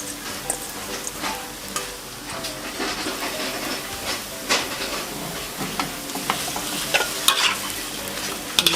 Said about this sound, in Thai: เดี๋ยวเราจะใส่ในส่วนของวุ้นเส้นนะคะที่เราสับไว้นะคะใส่วุ้นเส้นลงไปค่ะ